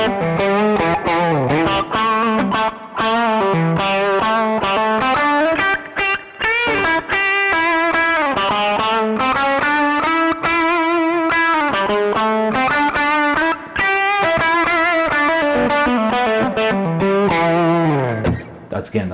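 An electric guitar plays through a Hotone British Invasion amp with the mid control boosted at a high gain setting and no overdrive pedal, a continuous crunchy driven run of chords and lead notes.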